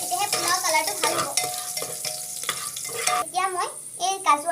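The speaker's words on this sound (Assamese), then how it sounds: "এইখিনি ভালদৰে ভাজি লওক।" Ginger and garlic being fried and stirred in a pan for chicken pulao, with a steady close sizzle broken by repeated scraping strokes of a spoon, loud in the foreground.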